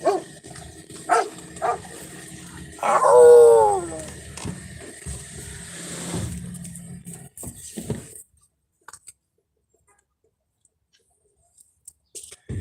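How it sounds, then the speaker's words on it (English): A dog gives a sharp, unfriendly bark, one loud harmonic burst near the start over background noise, followed by scattered quieter sounds and then near silence. "Just so you know, that wasn't a nice bark."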